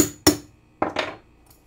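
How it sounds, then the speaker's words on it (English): Two sharp metallic strikes of a hammer on a center punch, marking the center of a hole before drilling: one lone hit, then a pause and a quick double impact, close and crisp with a bright ringing edge. "We'll center punch that."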